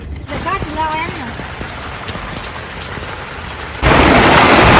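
Heavy pre-monsoon rain pounding around a shepherd family's camp, someone speaking briefly at first over a steady wash of rain that suddenly swells into a much louder, close roar near the end.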